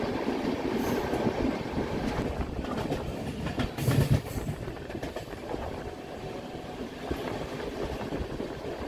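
The 12023 Howrah-Patna Janshatabdi Express rolls through Salanpur station with a steady, close clickety-clack of wheels over rail joints, a continuous rumble and a brief metallic squeal partway through.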